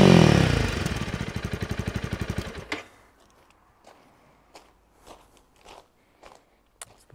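Honda CRF300L motorcycle with a MotoX aftermarket exhaust revved hard during a noise test: a loud, pulsing engine roar close by that cuts off, then fades into quiet idle ticks and faint clicks.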